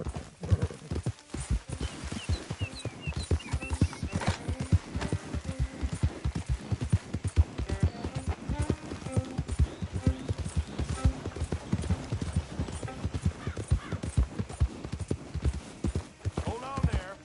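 Horse hooves clip-clop in a steady, brisk rhythm over ground, close and continuous, with a voice and occasional snorting mixed in.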